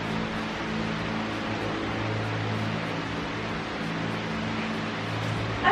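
An electric fan runs indoors as a steady, broadband whooshing hum that stays even throughout, with no talking over it.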